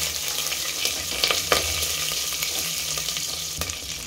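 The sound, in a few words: spices and green chilies crackling while frying in oil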